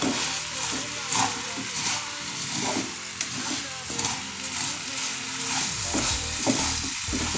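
Semiya pudding stirred in a pan over low heat, a steady soft scraping and bubbling that runs throughout at close range, with no voice over it.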